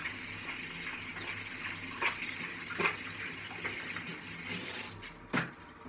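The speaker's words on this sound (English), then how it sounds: "let's wash the face" Tap water runs steadily during face washing, a continuous close gush with a few splashes and light knocks on top, and no talking.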